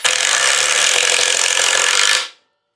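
A Milwaukee M18 Gen 2 Surge 2761-20 driver in Triple Hammer mode sinks a 5-inch screw into wood with a loud, harsh, continuous grinding whir. The sound runs for about two seconds, then cuts off sharply into silence.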